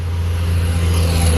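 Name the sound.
road traffic noise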